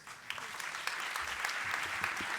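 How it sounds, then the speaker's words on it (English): A conference audience gives a short burst of steady, moderately loud applause for a panel on transport and connectivity, the clapping holding even across the whole moment. "please big applause from the audience for our great panelists"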